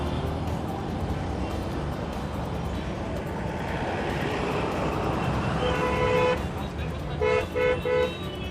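An army vehicle moves through busy road traffic as car horns toot in short repeated bursts toward the end, over a constant traffic roar with a voice talking underneath.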